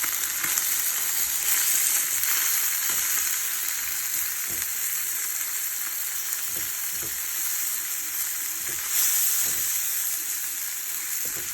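Hamburger and onions fry in a pan with a steady, close sizzle and hiss throughout, broken by occasional faint scraping clicks from stirring.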